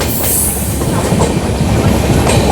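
The 13149 Kanchankanya Express rolls through Sevoke railway station in hilly, forested country, with a loud, steady rumble and rhythmic clickety-clack of wheels, close by and without any voices.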